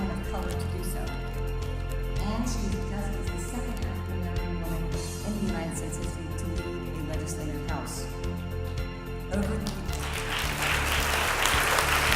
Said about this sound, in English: you're just going to have to keep clapping